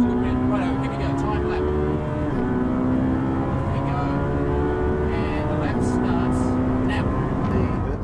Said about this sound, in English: Speciale has a very different exhaust note compared to the standard Italia 458. Much deeper, throatier sound.